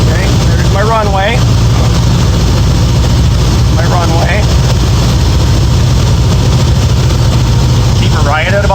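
Light aircraft engine drones loudly and steadily from inside the cockpit during the approach to a runway, with power being cut back before landing; a few brief chirping sounds rise over the constant roar.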